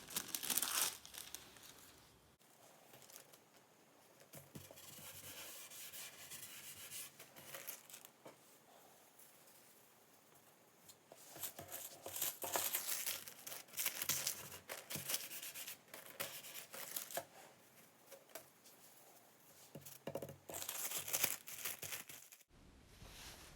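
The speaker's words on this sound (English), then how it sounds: "then it's time to apply the silver leaves" Thin silver leaf sheets crinkle and rustle as they are pressed onto a tacky glued pine cupboard. The crisp crackling runs steadily for the whole stretch, with louder bursts near the end and no voices.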